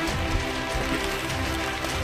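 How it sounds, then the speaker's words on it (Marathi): Rain falls through dense forest along the Harihar fort trail, a close, steady wash of pattering drops on leaves and ground with no voices. "पण पाऊस चालू झालाय नक्की"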